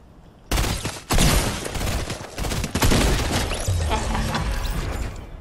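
Gunfire and weapon mechanisms from the video game Fortnite, with sharp bursts of shots and clicking, ratcheting handling sounds packed into a few loud seconds.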